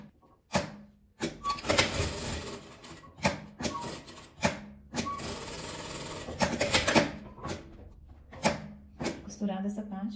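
A sewing machine stitches a small folded fabric strap for a patchwork and denim toiletry bag in several short, choppy bursts with brief pauses, alongside a nearby voice.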